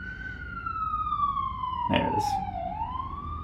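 An ambulance siren wails past on Steinway Street in Queens, its steady tone sliding down as it passes and then rising again. It is moderately close over city traffic rumble, with a brief spoken remark partway through.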